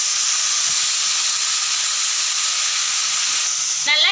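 Drumstick leaves (murungai keerai) sizzling in a hot pan after onion, garlic, coriander seeds and dried chillies, a steady bright hiss throughout with a brief clatter at the very end.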